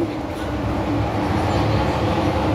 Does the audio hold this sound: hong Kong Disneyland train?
yes